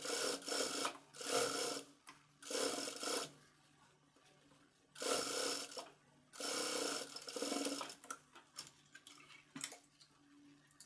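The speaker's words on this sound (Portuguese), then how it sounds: "Agora eu vou lá na máquina reta passar uma costura aqui com a distância de meio calcador" A straight-stitch sewing machine stitches a ruffle onto a top's strap, running in several loud bursts of rapid whirring stitching separated by short pauses, close by and without talk.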